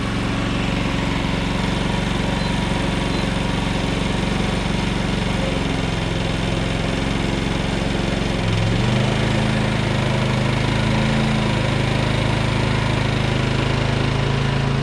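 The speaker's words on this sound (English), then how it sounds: "let's turn one of these things on, let's watch this thing ramp up" A Predator 4400 inverter generator starts up and settles into a loud, steady idle, its engine drone constant and close, shifting pitch slightly as it ramps partway through.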